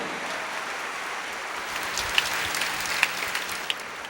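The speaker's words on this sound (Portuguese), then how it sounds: "Vamos aplaudir a palavra." A church congregation claps steadily in a large room, a soft continuous patter at moderate distance with a few sharper claps standing out near the end.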